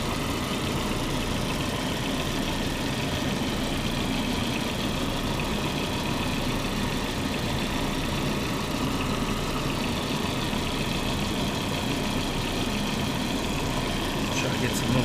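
A 1999 Volkswagen Passat 1.8T with a faulty MAF sensor idles roughly, a steady dense engine rumble holding at a constant level throughout.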